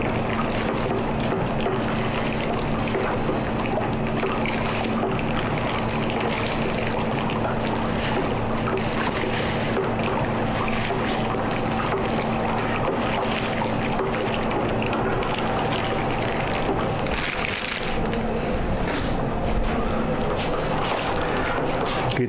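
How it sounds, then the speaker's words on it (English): A warm peach and oat whiskey mash is stirred steadily, giving a continuous liquid sloshing and swirling under a constant low hum, with no talking. "get that all nice and stirred in"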